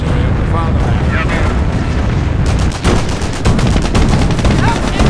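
Intense gunfire in the Company of Heroes video game, a dense continuous barrage of shots and booming impacts with sharp rapid bursts in the second half, loud battle noise under radio-style voice callouts.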